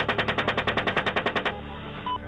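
A rapid burst of automatic gunfire from a US military helicopter, about a dozen loud evenly spaced shots over a second and a half, then abruptly stopping, leaving faint background hum.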